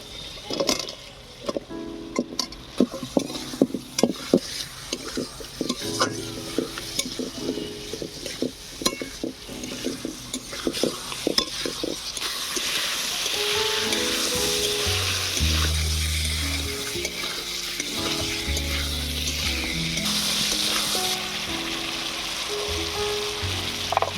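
Potatoes and peas are sautéed in a pan for a Bengali potato, aubergine and tomato dish, with rapid utensil scrapes and clatters first, then a steadier, louder sizzle as stirring continues.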